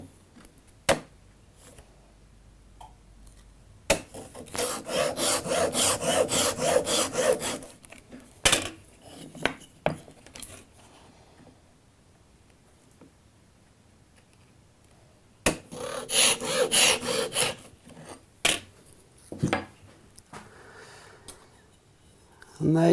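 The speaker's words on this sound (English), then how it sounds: "A perfect tenon, easily cut with the 90-degree guide" A handsaw cuts a wooden tenon against a 90-degree magnetic guide, two bursts of fast rhythmic rasping strokes up close, separated by quiet handling knocks and a pause.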